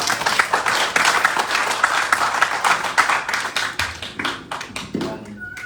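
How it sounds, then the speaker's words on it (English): An audience at a Ramayan Yagya gathering at a Hindu mandir gives a round of applause, many hands clapping in a dense, lively burst that thins into scattered claps, with some voices underneath. "give them a round of applause"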